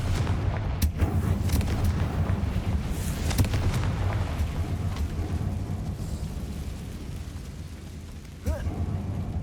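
Fire-spell explosion from the video game Hogwarts Legacy: a sharp blast bursts out early, then a rumbling, crackling roar of flames and debris fades over several seconds, with another burst near the end.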